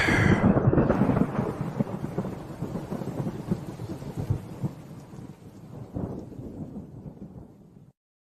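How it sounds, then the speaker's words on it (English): A thunder sound effect from an energy drink advert: a loud crash opens into a long, deep rolling rumble with rain hiss, fading away to silence near the end. "after you get struck by lightning, there's thunder"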